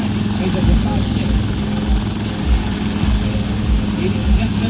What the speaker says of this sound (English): Here the troops are being feathered down by Dhruv helicopters flown by Lieutenant A.S. Walker